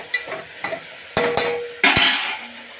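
Bottle gourd curry frying in a pan, with sharp spoon clatters and scraping stirs over a light sizzle in short bursts.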